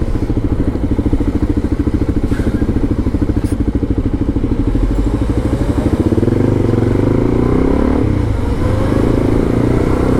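A Suzuki DRZ400E motorcycle idles with a loud, rapid single-cylinder thump up close, then pulls away as the engine note rises and settles into a steady riding drone, with no talk over it.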